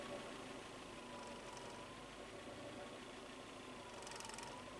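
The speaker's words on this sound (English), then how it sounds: "And hopefully you guys can hear the vehicle." A manual transmission car engine runs at a steady low rumble, faint and continuous, with a soft vibration and no voices over it.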